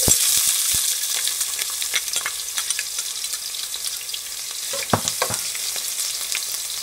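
Onions, garlic, spring onions and peppers fry in hot oil in a pot for Guyanese salt-fish, a loud continuous sizzle with repeated close stirring clatters and one sharper knock near the end.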